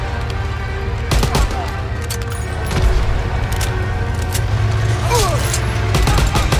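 Gunfire in Call of Duty WW2 on PC comes as scattered sharp shots and short bursts over a low rumbling battle backdrop, with a few loud cracks standing out.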